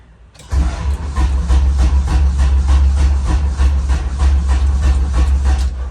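A time attack race car engine with an oil leak cranking over slowly on a weak battery, a loud steady rhythmic churn that begins abruptly and continues without catching, close up, with no talking.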